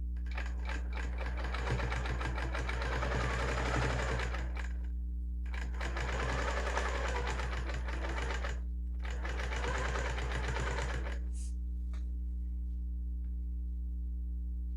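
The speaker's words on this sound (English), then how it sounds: "So then I just start stitching." Sewing machine stitching a quilt while repairing bad stitches, running in three steady bursts of rapid mechanical chatter separated by brief pauses, with a constant low hum underneath and no talking.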